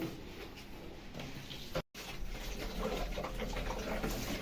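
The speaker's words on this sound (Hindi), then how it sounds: "अब हमने मशीन में पानी भरना प्रारंभ कर दिया है।" Water gushes into the tank of a rented sprayer machine being filled for mixing weed killer, a steady rushing pour outdoors that cuts out briefly and then resumes.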